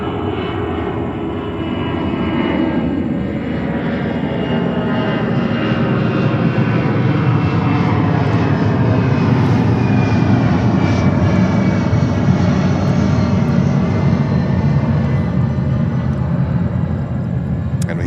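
A jet airliner takes off at JFK airport in New York, giving a loud, steady engine roar with broad rumble and hiss that holds throughout.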